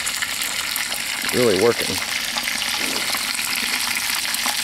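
Pork fat sizzles and crackles steadily inside a rusty cast iron kettle being seasoned outdoors, a broad hiss running throughout while someone speaks briefly over it.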